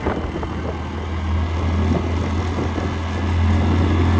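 A car engine brakes on a winding hill road toward Chimbuk in Bangladesh, a steady low droning hum that swells slightly in loudness, heard from inside the vehicle with constant road rumble beneath.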